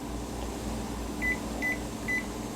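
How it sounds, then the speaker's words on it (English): Microwave kitchen timer being set while home-canning potatoes, three short, faint electronic beeps in a quick even sequence over a steady hum from kitchen appliances. "time to start kitchen timer on the microwave"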